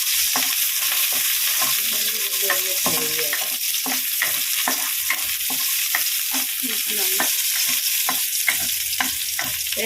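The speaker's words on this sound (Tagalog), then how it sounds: "nagisa na tayo ng luya at bawang at sibuyas" Ginger, garlic and onion sautéing in a pan, a constant hiss of frying oil overlaid with frequent scraping and stirring strokes from a utensil, close and fairly loud throughout.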